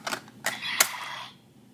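A disc slots into a Power Rangers Super Samurai Bullzooka toy, giving a few quick plastic clicks followed by a short electronic chime that fades after about a second.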